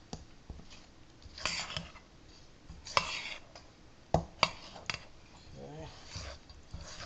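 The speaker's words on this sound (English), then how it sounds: "we want to give that a mix and get this all incorporated" Flour and tepid water being mixed into a no-knead bread dough, giving soft scraping and thudding strokes in an uneven rhythm, close and fairly quiet, with a dog audible nearby.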